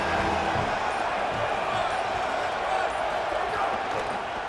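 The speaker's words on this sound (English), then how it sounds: "This crowd knows this defense needs them right now." A college football stadium crowd roars continuously during a Florida State Seminoles game against Alabama, a dense, steady wall of cheering and noise pressing the defense in the red zone, loud and unbroken throughout.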